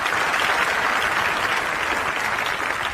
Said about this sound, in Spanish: Denle un aplauso a Nino.